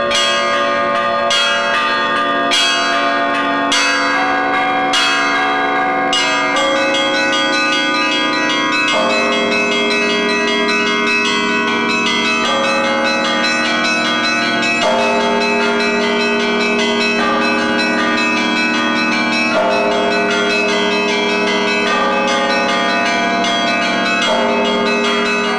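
Monastery church bells rung by a monk pulling ropes in the belfry, a full peal of several bells with strong, ringing overlapping strikes and long sustained tones, loud and near, with no talk.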